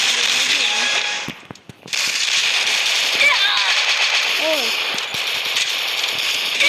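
Rapid bursts of video-game gunfire crackle loudly through a busy game mix, briefly cutting out near the start before resuming, with repeated sharp shots scattered across the clip.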